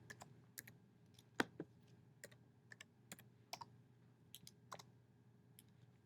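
Keystrokes on a computer keyboard enter a decimal answer for a math problem, a dozen or so sparse, crisp clicks spaced irregularly over a quiet background, with no talking.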